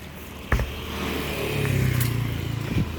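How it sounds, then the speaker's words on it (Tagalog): Motorcycles pass through street traffic in Vietnam, with engines droning close by and a brief sharp clatter. A rising rev comes midway, and no voices are heard. "Ang karamihan dito sa Vietnam motor."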